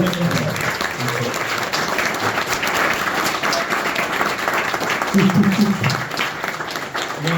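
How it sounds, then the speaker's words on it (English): Audience applauding a speaker at a talk event, a steady wash of many hands clapping that fills the room, with murmured voices mixed underneath. "give a round of applause for Stephen"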